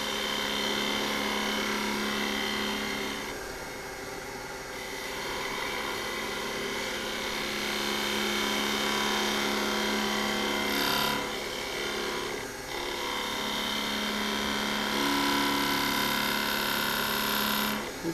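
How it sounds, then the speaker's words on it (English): A wood lathe spins steadily while turning an inside-out ornament with a cross, giving a continuous, fairly loud whir with slight scraping and rubbing textures that shift across the stretch, without any voices. "I'm going to turn the lathe down in just a second"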